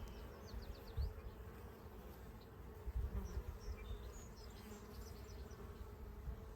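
Honeybees buzzing steadily around an open beehive during an inspection, a dense, faint, continuous hum with occasional louder close passes, no talking.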